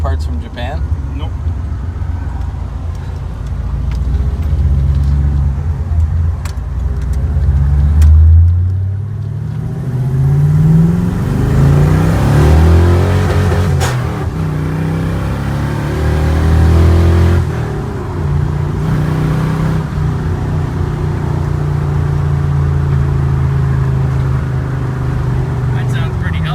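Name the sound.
car engine revving with shorty headers and Magnaflow muffler exhaust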